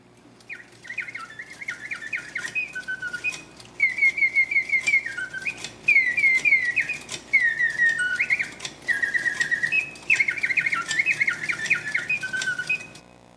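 A handmade mechanical bird automaton whistles a warbling bird song in repeated bright trills and chirping phrases, with short pauses between bursts, heard close and alone with no voices.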